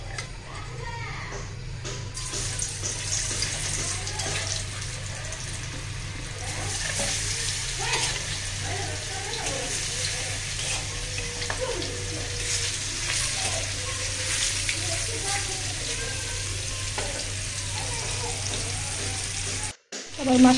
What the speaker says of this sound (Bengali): আবার মাছটা কিন্তু ভাজি হয়ে গেছে